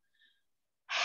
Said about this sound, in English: Breathing in through the nose and breathing out through the mouth, making the sound